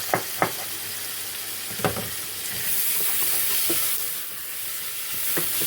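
Shredded vegetables for a Polish stir fry sizzle and hiss steadily in a hot pan, with a few sharp clinks of a utensil stirring them.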